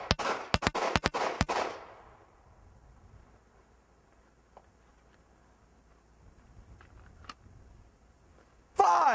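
Handgun shots ring out in a rapid string during a personal defense shooting drill at a range, several sharp loud cracks in quick succession, then quiet with faint movement and a final distant-sounding burst.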